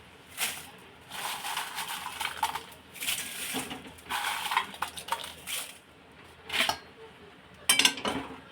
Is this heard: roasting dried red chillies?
yes